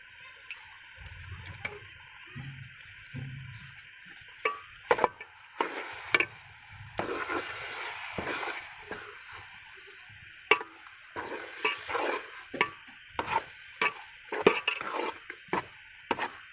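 Eggs stirred into carrot halwa frying in a pan, with a spoon scraping and clinking against the pot in repeated strokes over a soft sizzle, close and alone.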